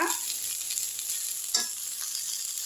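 Ridge gourd peel sautés lightly in a pan for a chutney, a soft steady sizzle with a single stirring scrape partway through, quiet and close, with no talking.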